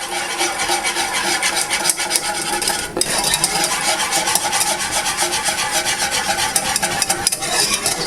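A whisk scraping steadily around a pan of homemade vanilla pudding, a loud, continuous close-up stirring rasp with a brief pause near the three-second mark and no talk.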